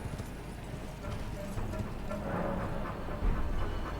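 Horse hooves clip-clop steadily in Elden Ring, a close, rhythmic trot that carries through the whole stretch over a low rumbling game backdrop, with no talk over it.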